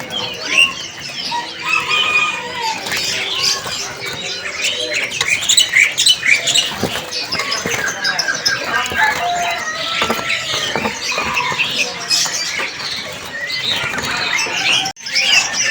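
Many caged birds chirp and tweet all at once in a bird-market kiosk, a loud, busy tangle of overlapping calls and squeaks with occasional wing flutters.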